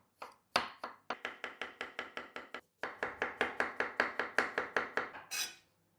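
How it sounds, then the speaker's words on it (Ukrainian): A knife cuts pickled cucumbers into rings on a board with a steady run of about twenty crisp, evenly spaced chops and a short pause partway through. The chopping is close and clear, with no talk. "відрізаємо хвостики і нарізаємо, друзі, ось такими колечками"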